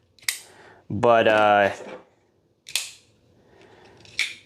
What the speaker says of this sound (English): the Griptillian is loud when it opens and closes